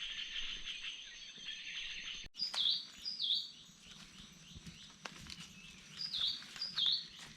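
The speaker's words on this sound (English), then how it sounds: "Many different bird sounds." Many different birds sing and chirp through a rainforest morning, with repeated bright calls from several directions over a steady bed of insect buzzing, moderately far off and with no talking.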